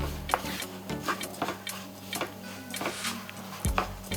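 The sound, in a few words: stirring beaten rice (aval) with coconut and jaggery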